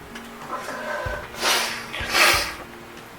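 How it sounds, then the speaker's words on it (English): A few sharp nasal sniffs and breathy snorts from someone sick, close and fairly loud, coming in quick bursts with short pauses between them. "I'm sorry I keep sniffing."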